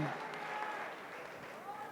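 A church congregation claps together in a short, faint burst of applause, with a voice carrying over the steady patter.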